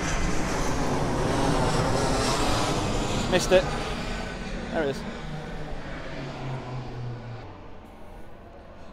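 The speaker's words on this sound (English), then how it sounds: "Plane coming over now." An airplane passes overhead outdoors as a steady, broad engine roar that slowly fades, with a voice talking briefly over it.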